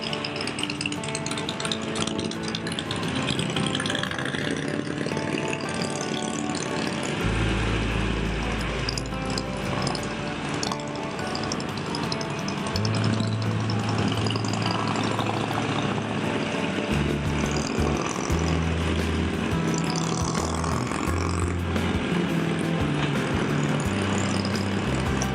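Several Harley-Davidson motorcycles, Softails, Heritages and Fat Boys, ride together on the way to Malacca, their engines a steady loud rumble with low throttle surges and shifts in pitch throughout.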